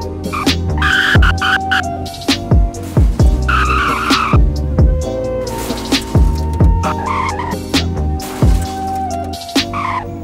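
Honda CR-V Prestige 2015 in a Roblox driving game skids and struggles off-road through mud, with repeated sharp tire squeals and slides over a steady engine drone, fairly loud and close.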